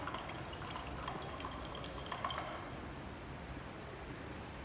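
An organic liquid is poured back into its container during a chemistry practical, giving a faint continuous trickle with splashy dripping that eases off after a few seconds.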